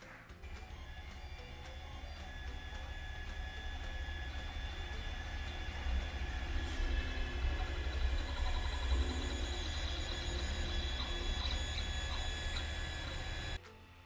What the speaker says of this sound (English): And then I'm going to take it over to the printer to print it out.